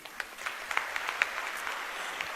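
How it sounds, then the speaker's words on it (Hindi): Students clap in a light, scattered round of applause. The claps sound soft and somewhat distant over a low background hum, with no voices on top. "स्टूडेंट्स को तो तालियां बजानी चाहिए"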